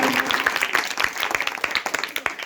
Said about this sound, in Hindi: इतना भव्य आयोजन कराने के लिए जोरदार तालियां होनी चाहिए